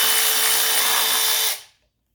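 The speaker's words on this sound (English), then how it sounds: "let's go ahead and undo our valve cover bolts," A power driver whirs continuously, undoing the valve cover nuts on a 1985 Mercedes 300D. A steady, close whine runs alone for about a second and a half, then stops abruptly into silence.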